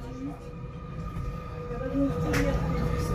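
A Mariazellerbahn narrow-gauge train rolls through curves above a gorge, a steady rumble of wheels on rails with faint squealing tones and a brief sharp screech near the end, heard from on board.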